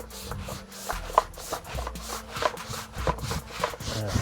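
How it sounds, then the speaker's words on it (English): A brush scrubs a car floor mat in quick back-and-forth strokes, a rhythmic scratchy rubbing close by and moderately loud, with no talking. "Just gonna scrub away. Make sure to get any dirt, anything off of here."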